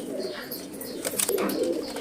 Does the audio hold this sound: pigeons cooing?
yes